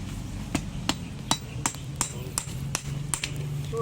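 Steady hammer blows drive a nail, about a dozen sharp ringing strikes at an even pace over a low rumbling background.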